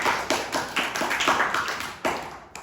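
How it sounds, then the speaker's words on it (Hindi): A group of children claps together in quick, uneven bursts, the applause lasting a few seconds before trailing off. "एक जोरदार ताली हो जाए बच्चों के लिए।"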